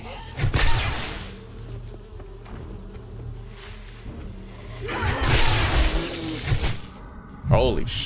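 Bees buzz in the survival video game 7 Days to Die, loud swelling bursts that sweep close with whooshing passes and then fade between attacks.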